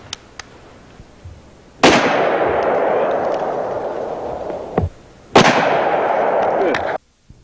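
Revolver shots from a strong, accurate steel gun, two loud sharp blasts each followed by a long rolling echo, with a few faint clicks and ticks between them.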